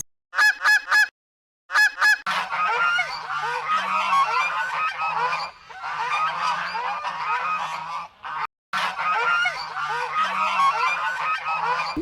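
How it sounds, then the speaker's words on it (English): Goose honking on a farm: a few sharp bursts of loud honks at the start, then dense, continuous overlapping honking from several birds, close and loud with brief gaps. "goose,"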